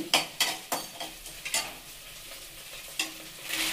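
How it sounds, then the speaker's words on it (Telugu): Dried red chillies fry in a pan on low to medium flame for gongura chutney, with a soft sizzle under repeated scraping stirs of a spoon against the pan, fairly quiet and close. "ఎండుమిర్చి వేయాలి, వేసి మాడకుండా లో టు మీడియం ఫ్లేమ్లో బాగా వేయించండి"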